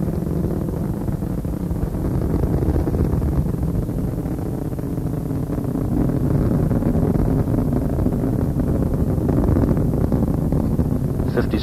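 Space Shuttle Discovery's three liquid-fuel main engines roar through launch on the STS-70 mission while throttling back, a loud, steady, dense rumble that fills the whole clip without a break.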